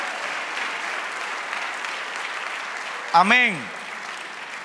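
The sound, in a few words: congregation applause in church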